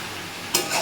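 Mutton for a red curry (lal jhol) being stir-fried in oil in a pan, giving a soft steady sizzle that swells into two louder bursts of scraping and frying near the end.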